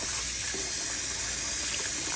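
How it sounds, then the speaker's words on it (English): Water gushes loudly and continuously from a tap into a plastic brine bag holding a whole chicken, a dense, close, rushing pour with no speech. "Then I add 4 quarts of water."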